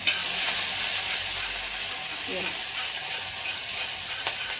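Onion and cumin seeds frying in oil in a cooker and being stirred, a steady close sizzle with scraping and clicking of the spoon throughout, no voices.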